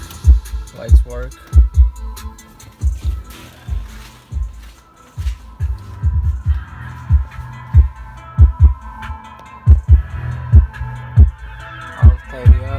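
Booming, bass-heavy music thumps from a new Android double-DIN head unit installed in a Mustang, steady low pulses beating through the clip with speech mixed in.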